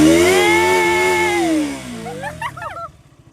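A voice imitates a motorcycle engine revving with a loud, sustained buzzing tone that rises and falls, then trails off into shorter chirpy bursts.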